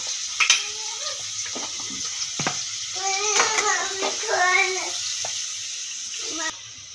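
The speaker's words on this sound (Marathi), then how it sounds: "परतून घ्यायचे, फ्राय करून घ्यायचे, फ्राय" Paneer frying in ghee in a pan, a steady soft sizzle running throughout while people talk over it.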